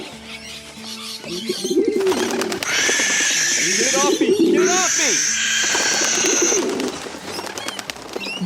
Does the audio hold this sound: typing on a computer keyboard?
no